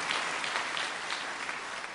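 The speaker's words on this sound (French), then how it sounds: "Applaudissons maintenant ceux qui vont être baptisés." A congregation at a church baptism service applauds the people about to be baptised, with an even, continuous wash of clapping that is moderately quiet and fairly distant throughout.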